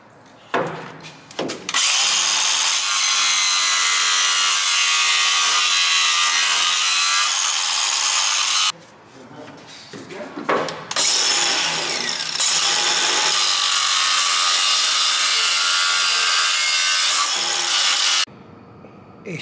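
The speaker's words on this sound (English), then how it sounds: "I've managed to grind off the old outrigger and the jacking point and tack the new one in" Old outrigger and jacking point being ground off an MGB Roadster under restoration, a loud, harsh, continuous grinding that runs for long stretches, stops briefly, then resumes, with no voices.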